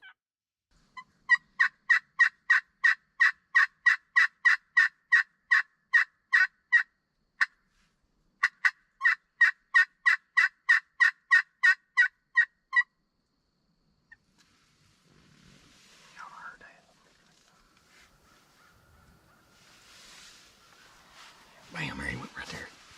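A wild turkey gobbles in a rapid, regular burst of loud, evenly spaced calls, pauses briefly, then repeats a second long run, answering a glass call during spring turkey season; afterward faint rustling and low whispered talk follow.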